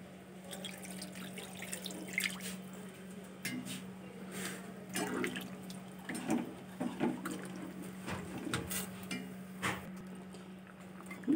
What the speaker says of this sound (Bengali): এবার জল দিয়ে দিলাম।